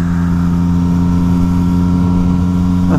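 Steady engine drone from a new motorcycle during a long ride, with strong low harmonics holding an even pitch throughout and faint wind noise above, loud and close with no voices.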